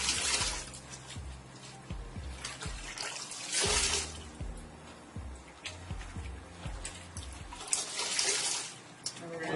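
Water draining and splashing in a sink after a wig has been washed, a faint gurgle with intermittent louder swishes and clunks, fairly close and uneven in rhythm.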